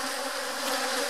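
Honeybees fly out from a backyard hive in a steady, close buzzing drone with no pauses, heard alone.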